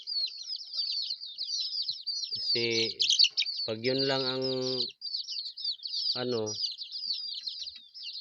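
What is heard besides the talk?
chickens and chicks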